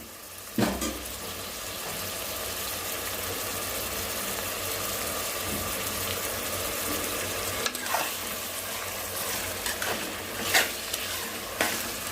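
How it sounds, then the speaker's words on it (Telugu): Green chillies fry in hot oil for a prawn gongura curry, a continuous close sizzle with a few scraping stirs and clinks of a spoon against the pan, no talking. "కర్రీకి మంచి ఫ్లేవర్ రావాలంటే పచ్చిమిరపకాయ కూడా వేగాలి"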